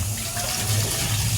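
Water gushes from a tap into a container in a steady, loud, close rush that fills the whole short moment without pause.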